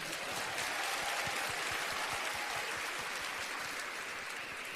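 A faint, steady wash of audience applause welcomes Dr. Esly Carvalho, dense and even from start to finish and heard from a distance, with no talking over it.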